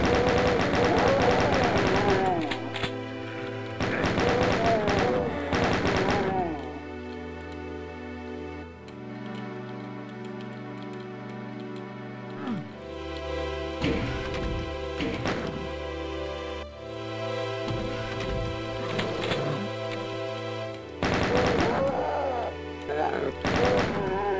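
Gunfire in the video game Doom, repeated bursts of rapid shots in clusters that alternate with stretches of loud in-game music, all close and prominent throughout.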